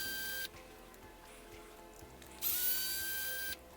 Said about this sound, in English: There's a screw on each side, so let's back that out.